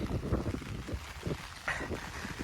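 Strong gusting wind blows during a rainstorm in Italy, a rough, rumbling roar buffeting the microphone in uneven surges with no voices.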